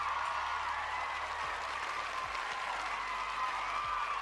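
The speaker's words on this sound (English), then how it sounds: "Round of applause." A small crowd gives a continuous round of applause that stays even and moderately loud for several seconds, with a few faint low thumps underneath and no speech over it.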